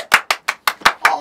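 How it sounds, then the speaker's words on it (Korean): Six sharp hand claps in a steady, evenly spaced rhythm, close and crisp, alone without talk, in a Korean comedy sketch parodying the film The Yellow Sea. "박수."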